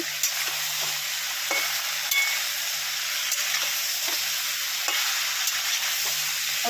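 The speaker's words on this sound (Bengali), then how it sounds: "হলুদের গুঁড়ো দিয়েছি লঙ্কার গুঁড়ো জিরের গুঁড়ো ধনের গুঁড়ো আর নুন দিয়েছি স্বাদ মতন দিয়ে এটাকে নাড়বো" Vegetables frying in a pan with turmeric, chili, cumin and coriander powders and salt, stirred with a spoon that scrapes and taps the pan in irregular strokes over a steady close sizzle, with no talking.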